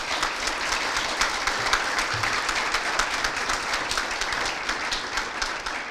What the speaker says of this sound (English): Please join me in applauding Bob Van Scoik for receiving the Frank Clark Award